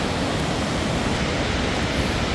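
Steady broadband rush of flowing forest water beside a sky bridge, a continuous hiss-like wash that stays even and close throughout with no voices.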